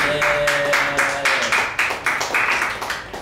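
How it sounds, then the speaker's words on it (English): A small group claps steadily, a quick, even rhythm of hand claps close by, fading slightly toward the end. "clap it up"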